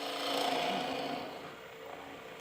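A wood lathe turning tool scrapes and cuts wood while the hollow of a piece is being set, making a soft rasping hiss that fades slightly over a couple of seconds, with no talk.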